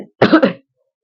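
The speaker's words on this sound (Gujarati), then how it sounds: "ઉધરસ" A single short, close cough or throat clearing, loud and abrupt, followed by silence.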